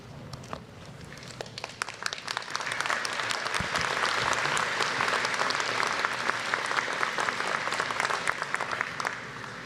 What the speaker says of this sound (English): so the applause is appreciated